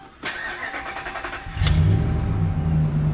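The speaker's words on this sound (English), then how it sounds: "we're gonna start this truck up, get it running, turn this AC on full blast" A 2009 Dodge Ram 1500 pickup with broken exhaust manifold bolts cranks briefly, then catches and settles into a loud, steady idle close by.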